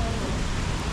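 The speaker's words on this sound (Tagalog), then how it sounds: "Ayun o, lakas po ng ulan." Heavy rain pounds steadily on a car during a downpour, a dense unbroken hiss that stays loud and close for the whole second.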